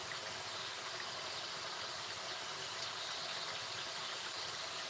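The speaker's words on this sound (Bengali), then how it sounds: "মাংসগুলো তেলে মশলা আর মাংস একসাথে তেলের সাথে কষিয়ে নিচ্ছি" Chicken pieces with spices sizzle and fry in hot oil for a home-style Bengali chicken curry, a steady, dense hiss running throughout with no breaks and no voices.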